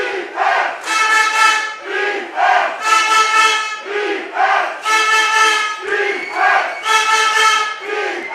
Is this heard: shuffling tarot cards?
no